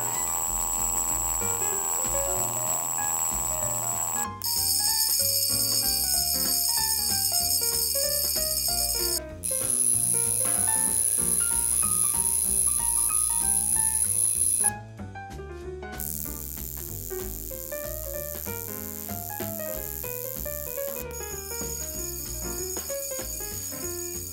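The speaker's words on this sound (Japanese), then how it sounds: "最後に改めて3本のアラームの音色を続けてお聞きください。" Three mechanical alarm wristwatches ring in turn, each a sustained metallic buzzing chime with its own pitch and tone, separated by brief pauses and played close and clear with no talking.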